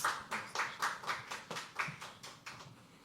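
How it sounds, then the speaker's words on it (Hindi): Audience applause at a poetry open mic, a small group clapping in a quick steady rhythm of distinct claps, fairly soft and close, with no talk. "एक बार जोरदार ताली"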